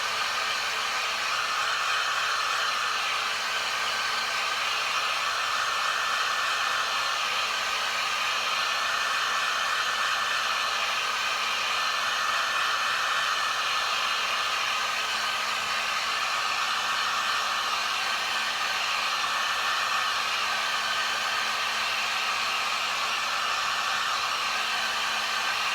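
A heat gun blows over the drying silicone of a reborn baby doll, making a steady, close, continuous whooshing hiss that holds unchanged for nearly half a minute with no talking.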